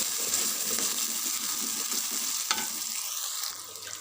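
Egg masala with green chillies sizzles in a pan, close and continuous, with rhythmic stirring scrapes and a sharp clink near the middle before the frying quiets toward the end.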